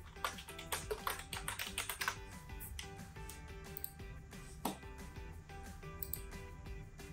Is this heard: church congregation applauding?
no